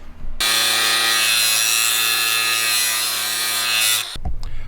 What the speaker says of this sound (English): You're just going to slightly grind that well nut and take it down.